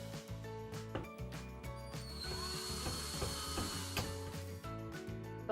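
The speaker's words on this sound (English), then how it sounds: "And drill this one in a little bit." A power drill drives a screw into a towel bar mounting plate, its motor whirring in steady, pitched bursts with a ratcheting mechanical edge, close and fairly loud, with no one speaking.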